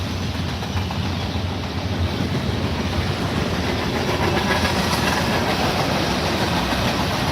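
A CSX or NS freight train with a heavy-duty flat car rumbles steadily past at close range, with continuous heavy rolling noise and faint rhythmic clacking of wheels on rails throughout.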